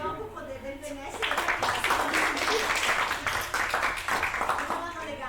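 A small group at an Aikido-Judo-Budo Christmas training session in Vittorio Veneto breaks into applause, a dense patter of clapping that starts after a second and carries on for several seconds, with voices chatting over it.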